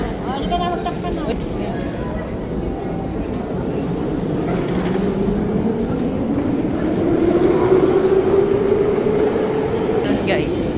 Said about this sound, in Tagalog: Sakay kami ng train.